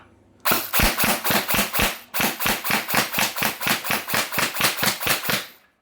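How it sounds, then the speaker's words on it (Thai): An ARP556 electric airsoft gun fires at a cardboard box in a fast, evenly spaced string of sharp snapping shots, close and loud, pausing once briefly before the rapid cracks resume and stop. "เดี๋ยวลองไปยิงลังเล่น ๆ นะครับเพื่อน ๆก็ทดสอบยิงนะครับนะ"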